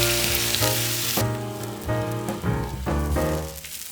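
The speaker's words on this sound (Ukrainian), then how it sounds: "Смажимо на маленькому вогні під кришкою." Steady sizzling of an egg mixture over bread frying in a covered pan on low heat, a constant crackling hiss with music playing over it.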